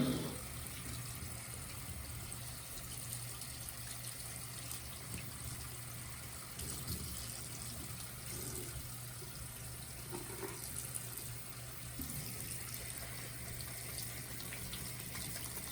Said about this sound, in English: We can do it while the water's running so that we can rinse really well the inside the brush